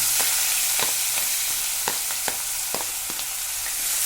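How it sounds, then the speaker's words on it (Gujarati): Chopper-crushed onions with asafoetida, coriander-cumin powder and other spices fry in a pan over medium heat, giving a loud, steady close sizzle broken by several sharp spatula scrapes. "જે ડુંગળી ચોપરમાં કટ કરીને રાખી હતી એ નાખી દઈશું આમાં"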